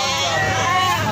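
A sheep bleats close by among livestock being settled for transport, one sustained wavering cry with background voices and babble.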